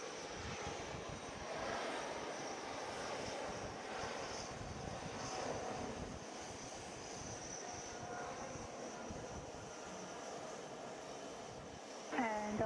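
A JetBlue jet airliner taxis at JFK International Airport, a steady mid-distance engine whine and rumble, with a brief bright tone near the end.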